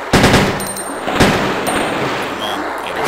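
Automatic gunfire bursts in the Resident Evil 2 sewer, rapid loud reports with sharp onsets over a dense, roaring game background.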